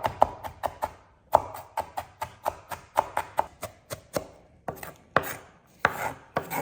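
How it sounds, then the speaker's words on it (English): Steady, rhythmic chopping of vegetables on a board with a small cutter, quick firm strokes repeating in close succession with brief pauses, no talking. "got all those cut up"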